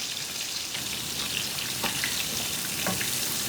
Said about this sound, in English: And fry them with some onions